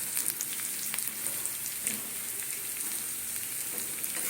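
Nigella seeds hitting onions already fried in hot oil, producing a dense, continuous close-up sizzle and crackle that keeps an even level throughout, with no voices.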